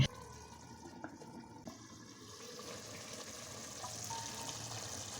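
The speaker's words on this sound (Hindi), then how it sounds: "अब इसमें 1 कप हम पानी डाल रहे हैं" Water poured from a cup into liver masala cooking in a pan, a steady splashing pour with faint sizzle that builds slightly toward the end, close and alone with no talk.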